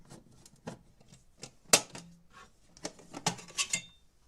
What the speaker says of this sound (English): Unscrew the metal box plate